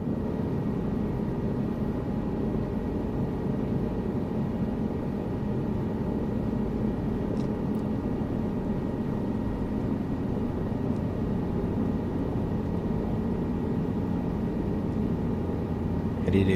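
Steady, unbroken rotor and turbine drone of a helicopter in flight within Microsoft Flight Simulator 2024, a constant broadband hum held at even loudness throughout with no talking over it.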